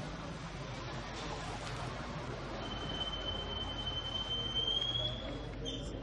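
A Paris metro train rolling along the line, giving a continuous loud rumble and rattle with a high metallic wheel squeal that rises and holds through the second half.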